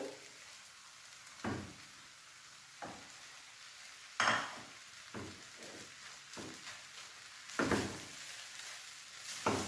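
Fried rice with scrambled egg is stir-fried in a pan: a steady sizzle runs underneath, broken by repeated scraping and clanking strokes of a utensil against the metal.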